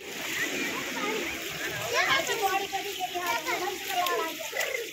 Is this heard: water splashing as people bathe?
yes